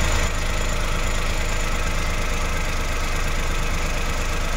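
A Suzuki Every Wagon engine idles steadily at about 900 RPM, a continuous close mechanical hum with a fine regular pulsing and a slight knocking texture, no voices over it.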